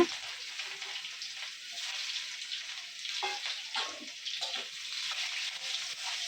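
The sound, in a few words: onions frying in oil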